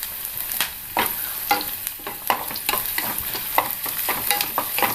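Curry leaves crackle in hot oil with shallots and chillies, loud sizzling under rhythmic spoon stirs scraping the pan about every half second.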